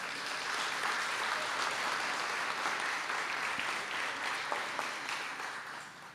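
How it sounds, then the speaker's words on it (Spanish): Steady, full applause from a seated audience at a municipal prize-draw ceremony in Miraflores, a dense continuous wash of clapping held at an even level before tapering slightly at the end. "encio, gerente de Administración Tributaria, a quien pido les brindemos un fuerte aplauso, por favor."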